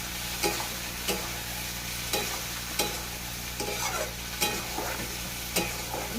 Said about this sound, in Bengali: আমি এইভাবে আবার নেড়ে চেড়ে নেবো, কষে নেবো আলুটাকে, এই মশলাটাকে দিয়ে কষে নেবো